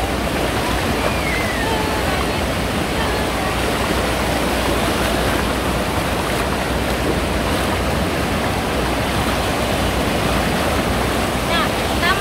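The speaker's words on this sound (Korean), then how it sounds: "파도도 오늘 낮고 좋네." Surf at My Khe Beach in Da Nang, low waves on the day, washing steadily across the whole stretch as a continuous broadband rush with no clear breaks, close and fairly loud.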